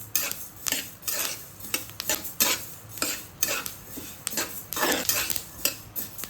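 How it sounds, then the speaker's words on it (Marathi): Garlic roasting in a pan over low heat, with rhythmic scraping and clinking of a spatula against the metal pan in repeated strokes, close and clear over a faint sizzle. "लसूण पण भाजून घेऊया, त्याने काय होईल की त्याचा कच्चापणा निघून जाईल लसणाचा"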